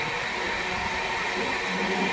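Continuous close rumble of a Vande Bharat train arriving at the platform, broad steady rolling noise with faint background chatter mixed in.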